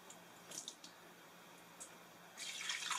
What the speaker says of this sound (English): add a cup of water to the insert of the Instant Pot